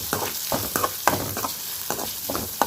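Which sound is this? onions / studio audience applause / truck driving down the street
onions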